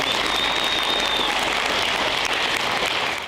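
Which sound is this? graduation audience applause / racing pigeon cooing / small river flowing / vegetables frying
graduation audience applause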